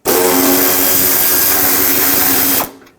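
A power tool whirs continuously at close range for about two and a half seconds, then stops, loosening a 10mm nut on the bottom of a front side bumper bracket on a 1995-2004 Toyota Tacoma.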